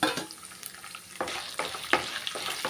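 Chana dal, urad dal, three dried red chilies and ten garlic cloves frying in a pan for coriander thuvayal, a quiet sizzle broken by stirring scrapes and occasional sharp crackles.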